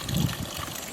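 Grated coconut being squeezed by hand into a bowl of water to make coconut milk gives a brief, soft trickling and splashing of liquid, close and gentle.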